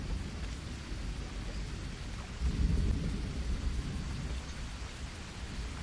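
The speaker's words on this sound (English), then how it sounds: "Right, it is raining, isn't it?" Steady rain hisses in the jungle survival game Green Hell while a low roll of thunder swells briefly in the middle, with no voices.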